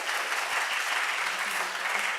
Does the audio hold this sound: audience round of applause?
yes